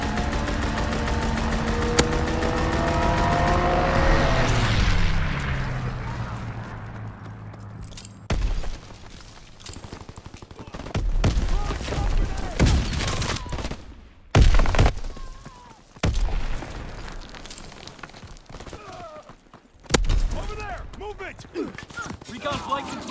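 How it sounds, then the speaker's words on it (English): A fighter aircraft's strafing run in the Call of Duty: WWII video game: a droning engine sweeps past with a falling pitch, followed by scattered sharp bursts and thumps, with game voices in between. "Fighter aircraft ready. Offer a strafe for us."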